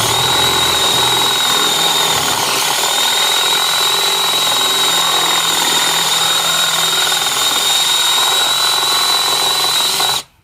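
A drill with a Forstner bit bores a concealed hinge cup hole into a cabinet door, a loud, steady high-pitched whir running for about ten seconds close by before cutting off abruptly.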